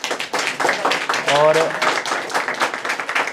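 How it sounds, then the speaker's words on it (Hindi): An audience gives a student dense, continuous applause for a good 10th-class result. The clapping is loud and close, with a short voice heard briefly through it. "एक बार जोरदार तालियां।"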